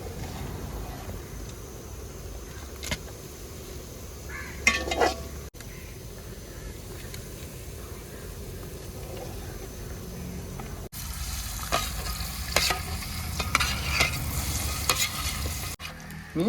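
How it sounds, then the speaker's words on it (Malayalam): Sardines sizzle and crackle as they fry in hot oil for pickle, a steady close bubbling broken by louder stirring and scraping bursts, growing busier toward the end. "മീൻ മൊത്തം വറുത്ത് കഴിഞ്ഞു."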